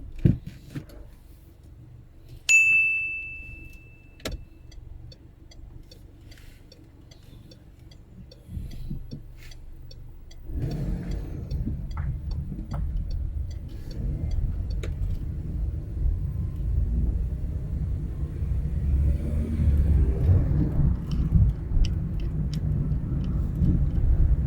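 A learner driver's car pulling away on a UK mock driving test, with a low engine and road rumble building steadily, a brief high beep and a few clicks near the start, and no one talking.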